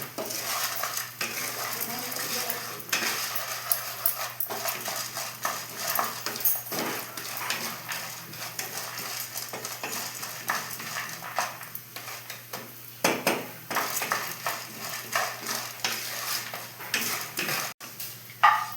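Peanuts and chana dal roasting in a pan for chutney, with a spoon scraping and clinking against the metal over a soft, dry sizzle that runs steadily throughout.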